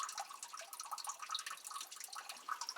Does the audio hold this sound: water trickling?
yes